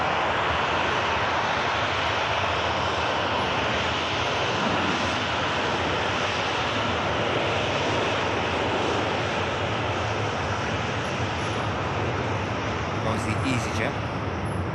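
A VistaJet business jet roaring down the runway as it rotates on takeoff at an airport, a loud sustained broadband engine rush heard at a distance with a voice talking over it.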